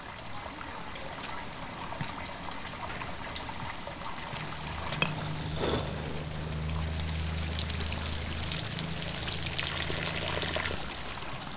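Water running through a centuries-old above-ground irrigation system in lemon gardens, a steady outdoor trickle and stream that grows fuller partway through and continues with a faint low hum beneath.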